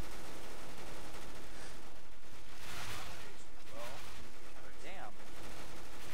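Gunfire in a Counter-Strike: Global Offensive zombie mod crackles in a dense, continuous chaotic barrage, loud and near, while voices shout over the shooting.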